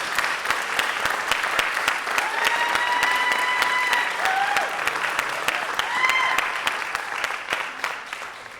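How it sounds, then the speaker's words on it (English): Loud, sustained applause fills the hall after a high school senior recital, dense clapping with a few whoops and cheers rising over it. "Can we give a big round of applause for our seniors?"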